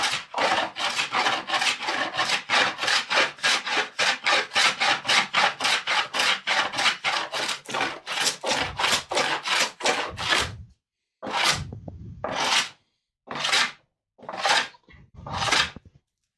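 Hand plane shaving wood while building a bellows, a fast steady run of rasping strokes that then slows to a few separate, louder shaves with pauses, close and alone.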